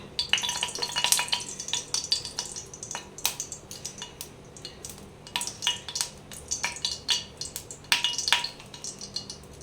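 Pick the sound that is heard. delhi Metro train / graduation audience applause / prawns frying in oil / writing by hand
prawns frying in oil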